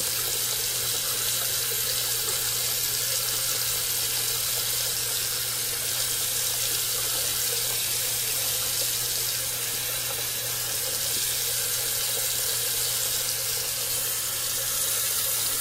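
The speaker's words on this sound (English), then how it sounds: "I'm just going to fill up the sink like I would in a hotel room" Tap water runs steadily into a bathroom sink, filling it for a shave the way one would in a hotel room; a continuous, even rush of water, close and alone, with no talking.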